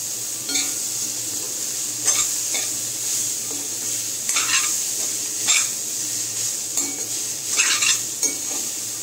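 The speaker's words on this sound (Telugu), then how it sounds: "కొంచెం కొబ్బరి కూడా పచ్చివాసన పోయేదాకా మనం ఫ్రై చేసుకోవాలి" Beans and carrot frying in a pan with grated coconut, stirred with a metal spoon: steady sizzling broken by repeated scraping and clinking strokes against the pan, close and fairly loud.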